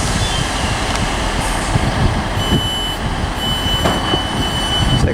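A diesel multiple-unit train driven by a Perkins and a Cummins engine together passes through Liverpool South Parkway station, rumbling steadily with high tonal whines and occasional clanks across the station.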